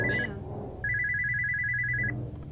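A telephone rings in the horror video game Spooky's House of Jump Scares, giving a short electronic trill, a brief pause, then a longer sustained ring over low background hum.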